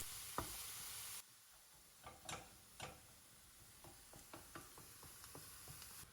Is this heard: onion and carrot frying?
yes